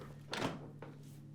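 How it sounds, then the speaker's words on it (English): Whirlpool KitchenAid dishwasher door shut after the lower rack is slid back in, giving a single moderate thunk with a lighter second knock just after, in a quiet room with a steady low hum. "push it back into the dishwasher and close the door"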